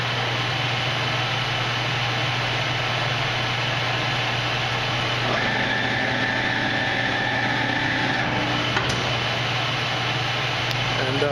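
A Victor lathe spindle running at 308 RPM, giving a steady mechanical hum with a constant low drone. A brief tonal whine appears midway, and voices talk over it.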